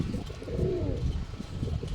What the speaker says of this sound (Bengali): কবুতর ডাকলেই ওর সৌন্দর্যটা বোঝা যায়